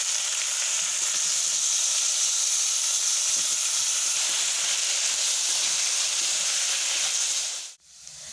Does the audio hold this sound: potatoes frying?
yes